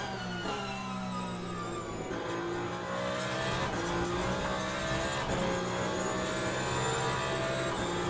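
A Ferrari race car in Le Mans Ultimate braking and downshifting, its engine note falling and rising in steady harmonic sweeps, loud and close, with no talk over it.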